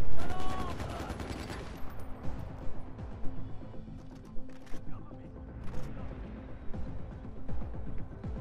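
Gunfire and explosions in Far Cry 4, a loud blast up front followed by scattered shots and bangs at irregular intervals, mixed with game sounds and occasional voices.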